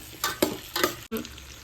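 Chilli chicken being stirred and tossed in a hot frying pan, with a few quick scraping strokes over a steady sizzle, close and loud, no voices.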